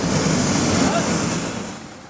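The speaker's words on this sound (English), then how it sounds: "One of the major highlights of the trip was going on a helicopter tour of the city" A helicopter on a tour over New York City gives a loud, steady rotor and engine roar heard from inside the cabin, faintly easing toward the end.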